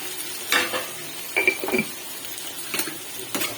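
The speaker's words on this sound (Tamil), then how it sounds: "எண்ணெயிலேயே வதக்கணுங்க" Tomatoes with garlic and salt sautéing in oil for a tomato chutney chicken masala, a soft sizzle under intermittent scraping and stirring strokes of a utensil against the pan.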